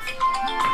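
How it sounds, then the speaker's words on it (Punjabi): A mobile phone plays a short melodic ringtone for an incoming call, a clear, moderately loud tone held over soft background noise. "ਮੰਮੀ ਦਾ ਫੋਨ ਆ ਗਿਆ।"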